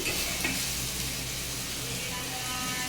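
Chopped ash gourd, salted and tossed with turmeric and nigella seeds, sizzles in a pan, a soft steady hiss with a brief clink of a utensil near the start, quiet and close.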